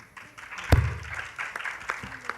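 An audience applauds for award-winning sustainable fashion collections at a green fashion conference in India, with broad, steady clapping that swells at the start and continues for a couple of seconds.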